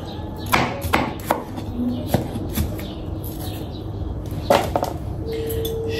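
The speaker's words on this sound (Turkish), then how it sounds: "Kırmızı biberimi közlemeye üşendiğim için direkt böyle doğrayacağım." Red pepper chopped into small pieces with a knife on a cutting board, a series of sharp, irregular close knocks between quieter scraping, fairly loud against a faint background.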